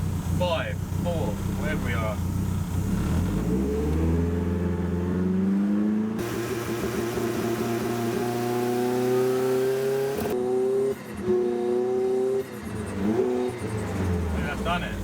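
Honda K20 engine revving repeatedly in a workshop, loud and close, with rising and falling pitch sweeps and a rough, shaking drone, while people talk over it.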